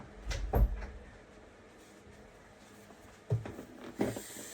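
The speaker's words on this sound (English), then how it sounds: "People are waking up, so I gotta shut my door." A door being shut in a home, heard as a couple of dull, close thuds and a latch-like knock spaced apart, with near-silent room tone between them and no talking.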